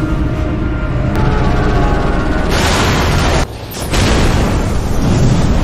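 A helicopter from the video game Resident Evil crashes and explodes, producing loud, dense, sustained rumbling and roaring with a brief dip partway through before the blast noise resumes.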